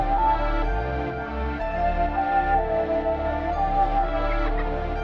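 A looped, sample-based beat: a breathy flute-like melody with heavy reverb over sustained low bass, steady and full, with no drums.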